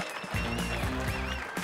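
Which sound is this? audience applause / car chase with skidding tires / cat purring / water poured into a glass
audience applause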